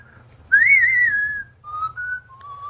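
Someone whistles a short melodic phrase from the theme of The Good, the Bad and the Ugly, clear sliding notes in a few segments, close and alone over a faint low hum.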